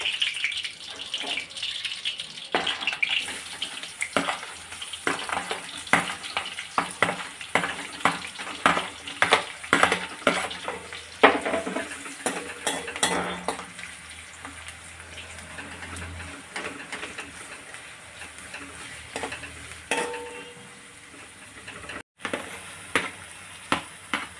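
Onion frying in a pan while Maggi noodles are made at home, a steady close sizzle broken by scraping stirs and clatters of the spoon against the pan, with brief gaps and no talk.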